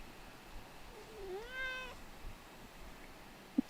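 A cat gives a single drawn-out meow that rises and falls, moderately loud and close, against a quiet room, followed near the end by a brief soft click.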